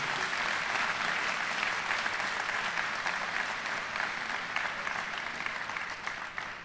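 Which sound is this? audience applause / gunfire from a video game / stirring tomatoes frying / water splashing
audience applause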